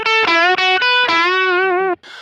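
Electric guitar through a Kemper Profiler profile of a Fender Deluxe Reverb amp, with a driven, slightly distorted tone, playing a few sustained notes and bends, then a short softer chord at the end.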